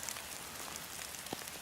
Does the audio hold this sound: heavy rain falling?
yes